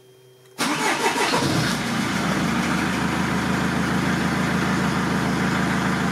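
A 2006 Mercedes C200 CDI diesel engine, just fitted with a new water pump, belt and pulleys, cranks briefly and catches, then settles into a steady, close, loud idle with no talk over it.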